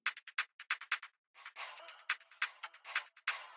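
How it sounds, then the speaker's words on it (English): A bright programmed drum fill for a drill beat: rapid clicky hits in a quick run, a brief gap, then a denser roll of snappy hits, playing alone without any talking. "the first drum fill sounds like this"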